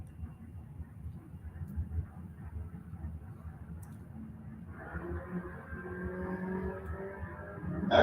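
A '68 Nova and a Ford Mustang launch off the starting line in a Scorpion ET Series drag race at Gainesville Raceway, Florida, engines roaring steadily and swelling louder as the cars pull away.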